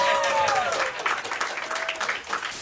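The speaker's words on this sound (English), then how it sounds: "let's clap for him" An audience claps and cheers in steady applause, with some whoops and voices mixed into the crowd noise.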